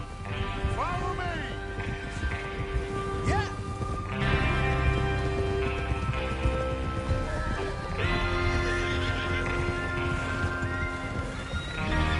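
Horses in the Red Dead Redemption II video game neigh and whinny several times over steady hoof clip-clops, up close, with game music or ambience and talk mixed in.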